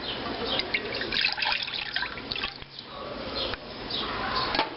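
Juice is poured into a container, a steady, close trickling splash of liquid that swells and eases over a few seconds with no voices.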